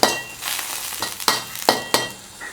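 Seafood gravy with vegetables for Thai rad na cooks over high heat in a pot, a steady bubbling sizzle broken by several sharp utensil clinks and stirring scrapes, close and moderately loud, with no talking.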